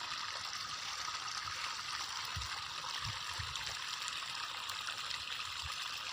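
Irrigation water flows into a wheat field from a motor pump in a continuous, soft rushing trickle, steady and fairly quiet.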